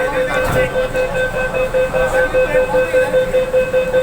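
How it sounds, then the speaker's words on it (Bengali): Inside a Kolkata metro train running in the underwater tunnel beneath the Ganga river, the carriage gives a steady loud hum with a sustained electric whine and a faint rumble, with no talk heard. "মেট্রোর মধ্যে উঠে পড়েছি"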